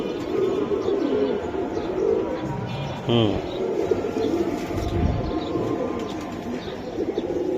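Silver Giribaz and Homer pigeons coo in a loft, with soft repeated cooing and occasional wing flutters under a voice talking nearby.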